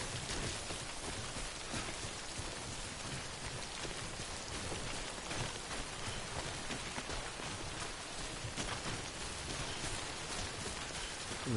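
Steady rainfall in the video game Death Stranding, a dense, even hiss of drops on surfaces that runs unbroken and fairly close for the whole stretch, with no voices over it.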